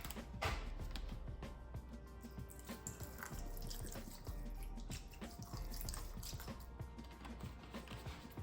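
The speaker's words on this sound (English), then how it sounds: "So just rinse them in some vinegar." Fish rinsed in vinegar at a kitchen sink, a steady close wash of splashing and trickling liquid with small drips and handling knocks, running continuously throughout.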